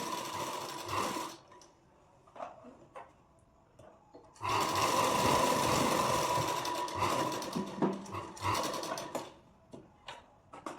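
A sewing machine stitches the armhole of a princess-cut deep-neck blouse, running in loud continuous bursts separated by brief pauses, close and clear.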